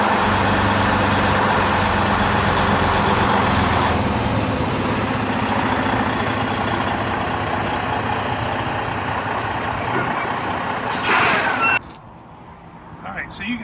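A tractor-trailer truck's diesel engine drones steadily and loudly at low speed while parallel parking, then drops off sharply near the end, leaving a quieter rumble.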